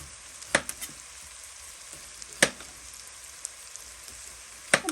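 Onions, bacon and garlic fry in a pan for a fish stew, a soft continuous sizzle broken by three sharp spatters or pops, with no talking.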